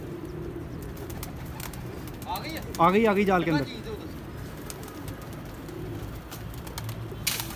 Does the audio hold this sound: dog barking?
no